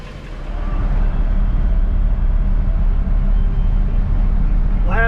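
A 1959 Bel Air engine idling outdoors in the sun to warm up, a loud, steady low rumble that swells in over the first second and then holds even and close throughout.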